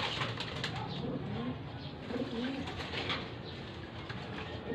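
Racing pigeons in a loft give steady low cooing with occasional wing flaps, continuous and close throughout against a busy background murmur.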